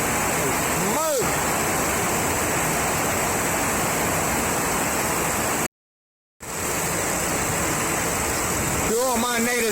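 Heavy rain from the tail end of Hurricane Sally pours down in a loud, constant hiss, with someone speaking briefly near the start and end.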